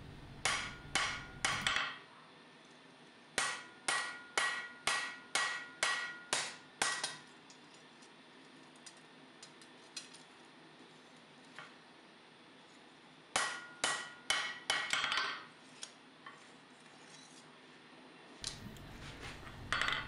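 A hand hammer strikes a forged full-tang knife blade on an anvil in quick rhythmic bursts of sharp, ringing, close blows, with quiet pauses between groups.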